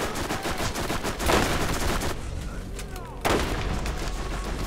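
Rapid gunfire from the video game Borderlands, dense bursts of shots and blasts layered over in-game noise, with a brief lull midway before the shooting resumes loudly.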